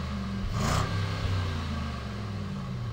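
Mercedes-AMG GLE 63 S SUV idling with its active exhaust in balanced mode, a steady low burble with one brief rev swell near the start, close and alone.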